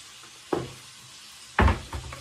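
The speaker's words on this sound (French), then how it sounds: "Là, vous mélangez, vous mélangez, vous mélangez." Food is stirred in a hot pan: two short, sharp scraping bursts over a low background sizzle, the second louder with a small follow-up scrape.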